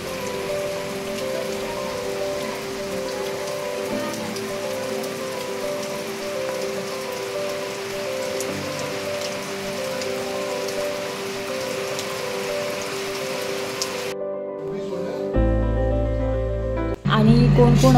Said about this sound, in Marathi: आता पाऊस जोरदार पाऊस सुरुवात झालेली आहे